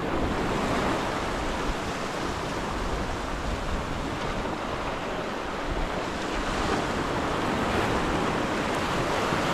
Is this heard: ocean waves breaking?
yes